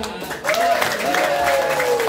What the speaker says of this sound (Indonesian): Sekali lagi kita tepuk tangan sama Pak Bukhori.